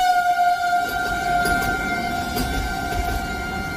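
A Vande Bharat train sounds its horn while passing a railway station, a long, steady, loud two-tone blast held over the low rumble of the moving train.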